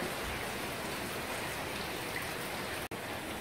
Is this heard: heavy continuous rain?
yes